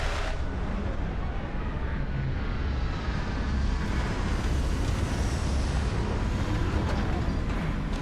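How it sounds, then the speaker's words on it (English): A spaceship touching down in the video game Starfield, a steady loud roaring engine rumble with broadband hiss that swells slightly toward the end, sounding alone without talk. "Landing initiated."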